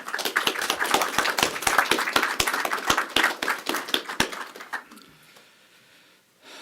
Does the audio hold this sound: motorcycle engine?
no